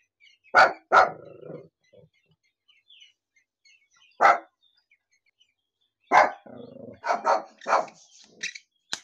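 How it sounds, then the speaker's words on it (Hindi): A dog barks in short, sharp bursts, a few spaced barks and then a rapid cluster, close by with quiet gaps between. "ये देखिए इतना भौंक रहा है"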